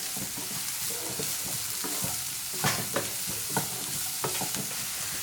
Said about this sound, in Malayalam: നന്നായിട്ടൊന്ന് മിക്സ് ചെയ്ത് കൊടുക്കാം.